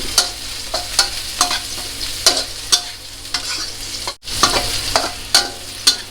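Chopped garlic and chili frying in a hot wok for a spicy Thai snakehead fish and celery stir-fry, a steady close sizzle punctuated by regular sharp scrapes and clacks of the spatula, with no talking.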